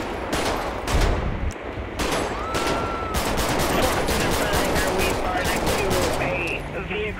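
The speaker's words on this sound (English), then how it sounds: "shots fired" Gunfire erupts during a police traffic stop in GTA 5, with loud, rapid volleys of shots cracking close by in dense bursts for several seconds while someone talks.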